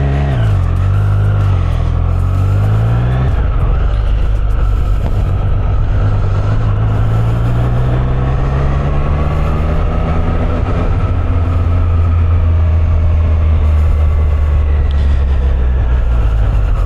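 A Triumph Street Triple 765 R roadster pulls away in second gear, its engine note climbing and shifting in a loud, close drone with gear changes and wind noise over the whole stretch.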